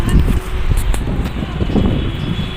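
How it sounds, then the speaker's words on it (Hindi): Wind blows outdoors near an entry gate, buffeting the microphone with a continuous rough, gusty rumble throughout. "यहाँ पे मस्त हवा चल रही है,"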